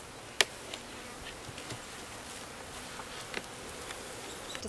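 Honeybees buzz steadily around a hive during supers reversal in a soft, continuous drone, with a few bees passing close to the microphone.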